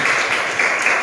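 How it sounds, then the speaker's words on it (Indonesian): Applause from students in a classroom lesson, a brief steady patter of many hands clapping close by. "Tepuk tangan dulu untuk teman-teman."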